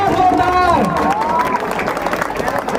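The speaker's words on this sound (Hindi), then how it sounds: "जोरदार ताली तो बनता है, जोरदार ताली और जोरदार।" A crowd applauds and cheers loudly and steadily at a school inauguration ceremony, a broad wash of clapping that continues throughout, with a voice briefly audible over it near the start.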